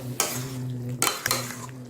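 A spoon stirs a paste of mustard, poppy seed, white sesame and green chilli into ridge gourd in a pan, making a few scraping strokes over a soft, steady sizzle.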